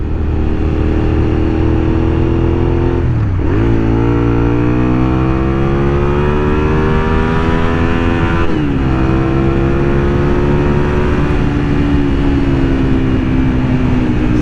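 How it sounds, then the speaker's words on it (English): A car engine revs hard up to redline and bounces off the rev limiter, its pitch climbing in long sweeps, dropping sharply twice and climbing again, loud and close throughout with no talk. "Ooh, took it up to redline on that one. Bouncing it off the rev limiter."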